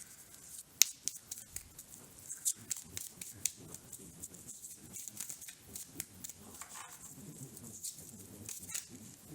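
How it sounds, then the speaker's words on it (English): Tarot cards are shuffled close up in a quiet room, giving a faint, uneven run of soft riffling slaps and crisp flicks. "I don't talk much while I shuffle cards"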